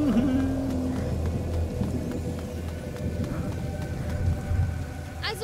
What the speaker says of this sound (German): Keine Sorge, der Sturm übertönt unsere Stimmen.